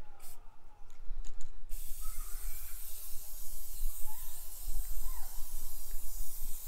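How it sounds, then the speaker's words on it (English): Spray can hissing steadily as paint coats a paper mache Jack Skellington bust, a continuous broad hiss with faint birdsong in the background, no talking. "I'm gonna go ahead and start spraying him."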